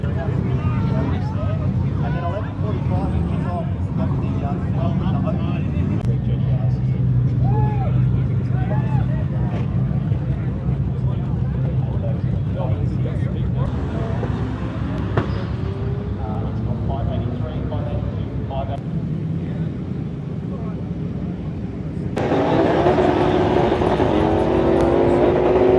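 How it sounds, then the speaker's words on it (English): Nissan GT-R cars rev and roar through roll drag races at a night festival, engines droning loud and continuous with a louder pass surging near the end, crowd chatter and talk mixed in throughout. "it's that time of the night where they're doing the roll drags"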